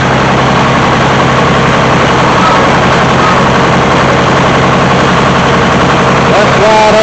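An old Detroit diesel engine runs on a hydraulics setup, a loud, steady, heavy low rumble with dense mechanical clatter throughout and a slight change in tone near the end.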